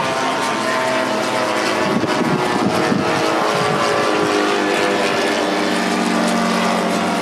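A home-built model aircraft flies at a model show's flight line, its engine giving a steady, droning buzz that stays loud and continuous throughout with no talk.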